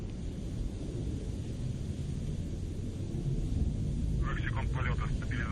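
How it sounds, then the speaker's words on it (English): Soyuz rocket launching on its four strapped-on boosters and single core engine, a distant, continuous low roar that rumbles steadily, with a voice heard over it near the end. "the Soyuz delivering 102 tons of thrust from its four strapped-on boosters and single-core engine"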